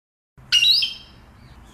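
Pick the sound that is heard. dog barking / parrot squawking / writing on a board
parrot squawking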